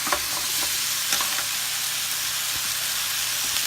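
Rice tipped into a hot pan and stir-fried with pork, giving a steady, loud sizzle with occasional scraping stirs throughout.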